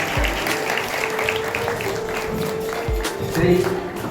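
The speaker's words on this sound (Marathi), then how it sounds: "आपण जोरदार टाळ्या वाजवूया." An audience at a retirement ceremony for a non-teaching school staff member claps steadily, with a speaking voice over the clapping.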